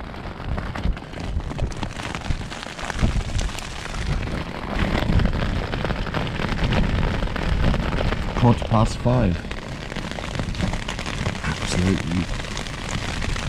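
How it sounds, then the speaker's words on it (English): Heavy rain pours down during a storm on a bikepacking trip, a dense, close hiss drumming on a surface all the way through, with a voice speaking briefly over it. "raining like crazy still."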